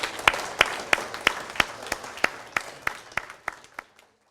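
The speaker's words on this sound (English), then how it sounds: "So a round of applause to all of you." Applause from an audience of parents and guests at a school Terrific Kids ceremony, heard as a steady run of evenly spaced claps, close and fairly loud, that slows and fades out after about four seconds.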